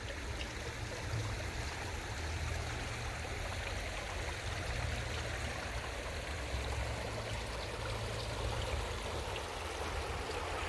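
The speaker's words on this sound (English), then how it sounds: "I do love this creek, though." Creek water flows steadily and evenly, a constant close rushing babble with no pauses and no voices.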